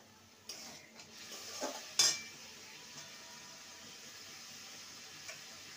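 Spice paste is stirred and sautéed in a pan for a taro stem (kochu shak) dish, with a few scraping clinks of a utensil against metal over a faint sizzle, alone without talk.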